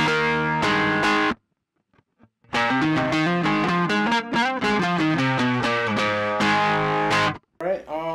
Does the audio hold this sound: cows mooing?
no